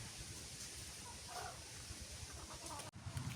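Chickens cluck faintly in the background outdoors in a breezy rural yard, with low wind rumble dominating and soft fowl calls rising briefly in the middle.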